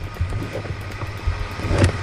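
A computer fan roars loudly and steadily up close, with a rough, engine-like drone that rises and dips slightly, much like a small chainsaw idling.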